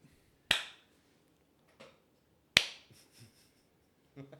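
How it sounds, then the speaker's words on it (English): Two sharp, isolated hand claps, spaced about two seconds apart, each a crisp near slap with a short ringing tail in a quiet room, followed by a faint brief voice at the end. "Do we want to do a clap? Yes, we do. just a single clap."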